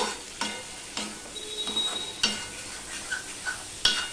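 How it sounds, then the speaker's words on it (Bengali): Vegetables fry with salt and turmeric in a pan while being prepared for a light Bengali bata fish curry, giving a soft steady sizzle broken by repeated sharp scrapes and clinks of a spatula stirring against the metal. "নুন হলুদ দিয়ে আমি আরেকটু ভেজে নেব"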